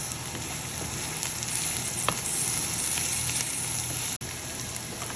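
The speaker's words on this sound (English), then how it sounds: "I'm going to saute it for 2 minutes or so, and so on. Now I'm adding the sun-dried tomatoes" Garlic and sun-dried tomatoes sauté in a pan for a red bean vegetable stew, with an even, close crackling sizzle throughout, a single brief clink, and no talk.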